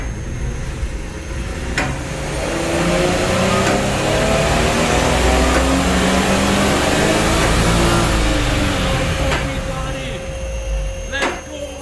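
2018 Infiniti Q50 Red Sport with its VR30 engine revving through a full dyno pull, a sustained loud rising engine drone that swells, holds, then falls away as it winds down.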